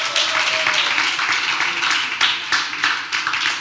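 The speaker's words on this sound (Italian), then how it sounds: "E facciamo un applauso ad Angelo, dai." Congregation applauding during a church service, a steady wash of clapping from many hands, moderately close and lasting throughout, with faint voices mixed underneath.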